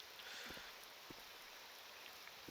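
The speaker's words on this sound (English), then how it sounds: "It's raining." Rain falls steadily in the video game Morrowind, a soft continuous hiss of drops with a few faint patters, quiet and even throughout.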